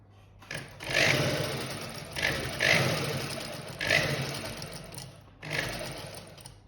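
A sewing machine stitching a side seam runs in four close bursts of rapid mechanical whirring, each starting sharply and trailing off, separated by short pauses.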